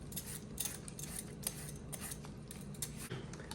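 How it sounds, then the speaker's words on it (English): A cho-cho (chayote) being peeled with a knife for fish soup, giving soft, steady scraping and small clicks close by against a constant background hiss, with no talking. "Now I'm going to peel the Cho-Cho."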